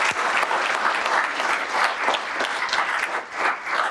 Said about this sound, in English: So a round of applause for Officer Lofton.